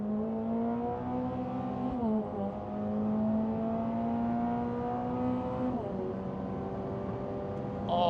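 A turbocharged automatic Toyota GR86 with a PVS tune at about 12 PSI accelerates hard down a quarter-mile strip, its engine droning and rising in pitch with two gear shifts, heard steadily from inside the cabin.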